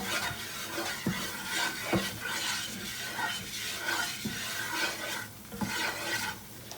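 A roux of flour and butter for jambalaya cooks in a pan over medium-high heat, a steady soft sizzle with repeated scraping strokes of a spoon stirring against the pan, close and alone.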